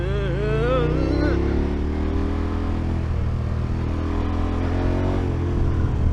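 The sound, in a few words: motorcycle engine while riding on roads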